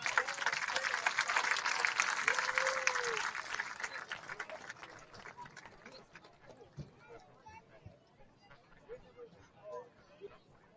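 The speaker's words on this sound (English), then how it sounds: "Let's give a big round of applause to our entire homecoming court." Crowd applause for the homecoming court at a Richland Center high school football game, dense and steady for the first few seconds, then thinning into scattered claps and crowd noise.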